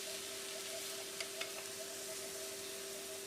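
Butter or ghee sizzling over wilted cooked chard in a pan, a steady soft hiss with a few faint crackles and pops, no voices.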